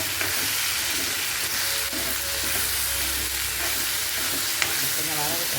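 Onion chutney ingredients sauté in a hot pan for a spicy South Indian dosa side dish, giving a steady, close frying sizzle with faint stirring noises and a brief clink near the end.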